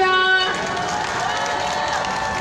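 Audience applause greeting guests at the Wednesday Demonstration rally on the Japanese military sexual slavery issue, a steady outdoor patter of clapping following a fading musical tone.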